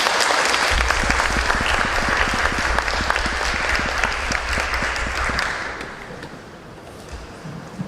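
Loud, dense applause from a seminar audience welcoming a speaker, sustained for several seconds before tapering off near the end.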